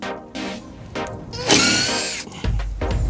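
A power drill whirs in short bursts and then a longer run while Phillips head screws are backed out of a front brake rotor on a 2017 Hyundai Elantra, with clanks of metal parts nearby.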